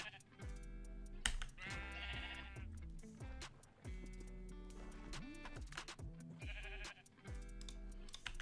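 Sheep bleating in Minecraft, several wavering bleats in a row, fairly close and clear, with farm animal noises around them and no talk.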